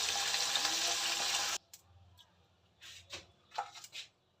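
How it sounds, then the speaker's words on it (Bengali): Fish frying one by one in a pan in a home kitchen, a loud steady sizzle that cuts off abruptly after about a second and a half, followed by faint clinks and scattered spattering. "একটা একটা করে সব মাছগুলো ভাজবো।"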